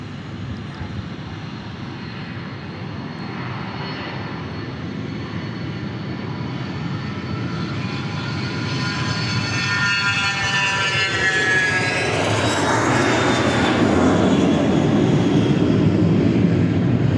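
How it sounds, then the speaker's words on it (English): A Piaggio aircraft taxiing at Dallas Love Field, its engine noise steadily building into a loud, rising whine and roar that grows nearer over the final seconds. "there is the Piaggio on the other side. I see it. It's about to cross the runway."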